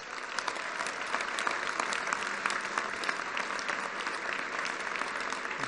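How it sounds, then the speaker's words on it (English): A crowd at a Donald Trump campaign event in Washington, DC applauds prisoners of war and those missing in action, with steady, dense clapping that holds evenly throughout and includes a few sharper claps standing out. "a big round of applause for our POWs and MIA"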